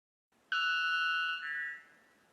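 One loud, piercing, bell-like white bellbird note, a pure metallic tone held about a second that drops slightly in pitch and fades, alone against silence.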